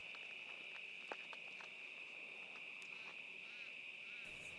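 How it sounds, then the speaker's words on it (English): Crickets chirp in a steady, continuous high trill from a distance along a rural dirt road, with a few faint taps and rustles underneath and no voices. "the sound of crickets and birds and frogs in the distance"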